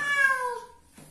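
A rescued domestic cat gives one drawn-out, falling meow while being bathed, close and clear, followed by a short fainter sound.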